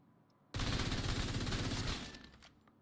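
A FAMAS assault rifle in The Division 2 fires one loud, sustained automatic burst of about a second and a half. The burst starts abruptly and then tails off into faint echoes.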